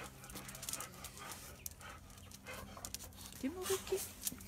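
A large dog pants in quick, breathy bursts close by just after eating, with a brief whimpering whine near the end and a person talking quietly in the background.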